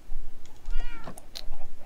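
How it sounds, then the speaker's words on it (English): A cat meows in Minecraft, a short wavering in-game mew heard close and clear with no talk over it. "Hello, cat."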